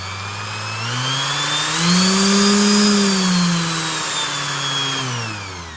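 A Makita 5-inch variable speed handle-style random orbit finish sander running at high speed, a loud close whine whose pitch rises and falls as the speed changes, with no voices.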